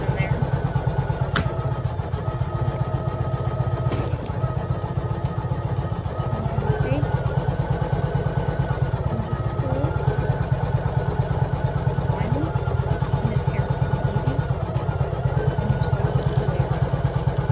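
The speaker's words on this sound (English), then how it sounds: "going to do a zigzag stitch around the whole edge, and then it's going to come back and do a nice solid edge stitching" Embroidery machine stitching a zigzag around the edge of a Valentine XOXO design with side split bow, then a solid satin edge, over tearaway stabilizer; a steady, close, rapid mechanical hum and clatter runs without pause.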